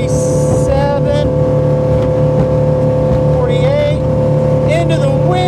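A 2004 Chaparral Sunesta 274 motorboat engine drones loudly and steadily at about 45 to 50 mph, with wind and water rush, while someone talks over it.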